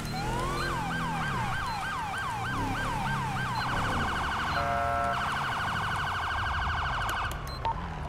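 Police car sirens in a video game, a rapid repeating yelp that shifts into a faster, steadier warble partway through, loud and close with no talk over it.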